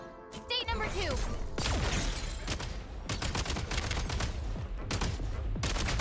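Rapid bursts of foam-dart shots from a Nerf blaster in Genshin Impact gameplay, loud and dense throughout, with sharp repeated cracks layered over game effects and a whooshing rope swing near the start.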